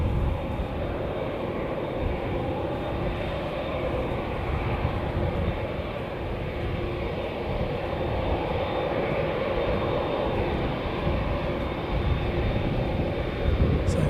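An Emirates airliner turns on the runway, its engines producing a loud, continuous, even roar throughout with no break.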